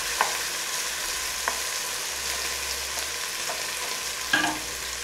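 Chicken frying with garlic in a pan for pakki biryani gives a steady, even sizzle throughout, broken by a few soft scrapes and stirring knocks, with no voices.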